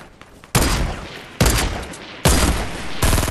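Four loud, sharp gunshot bursts from a weapon in the video game Fortnite, spaced about a second apart, each a broad crack trailing into a short decay, with no talk.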